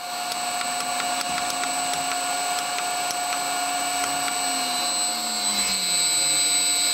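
Electric motor driven by a Huanyang VFD set to 40 Hz, giving a steady electrical whine with a sustained high tone and faint repetitive ticks, the motor not spinning up properly, no voices.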